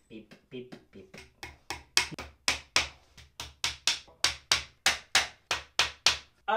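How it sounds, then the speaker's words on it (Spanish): Small nails are driven into soft wood with a hammer: a few light setting taps give way to a steady run of about twenty sharp, close strikes at a quick, even rhythm. "Voy a empezar a clavar, espero no hacer cagar la madera"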